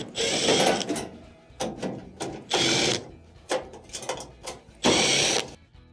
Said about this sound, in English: we have to remove this back panel here. This is held on by a couple of Phillips screws.